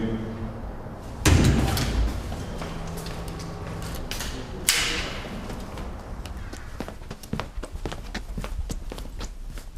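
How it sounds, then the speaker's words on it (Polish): A door slams hard, then a second loud bang follows a few seconds later, with footsteps and knocks moving around afterward. "Drzwi."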